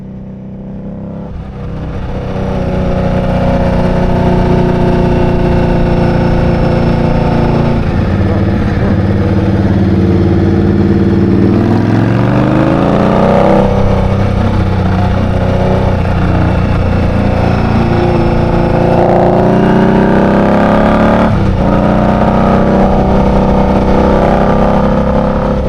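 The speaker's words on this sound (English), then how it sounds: "I just want to keep this engine revving almost the entire time" Indian Scout Rogue motorcycle engine held at steady high revs while riding, a loud continuous drone with rising and falling pitch as the rider shifts and accelerates, close and alone without talk.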